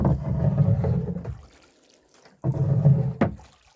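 Water sloshes and splashes around a kayak turning near a waterfall in two bursts, with a quiet pause between and a knock near the end.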